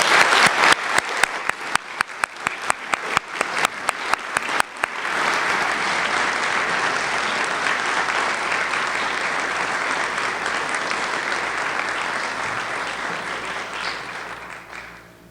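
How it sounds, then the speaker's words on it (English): Audience at the Saint Elizabeth Ann Seton Charter Day 2012 convocation applauds servant leader scholars: a few sharp individual claps at first, then dense sustained applause that holds steady before fading at the end. "let's have a round of applause for these servant leaders"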